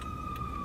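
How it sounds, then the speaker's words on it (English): An ambulance siren passes by at a moderate distance, a steady high wail that holds over low background rumble with no talking. "an ambulance is flying by"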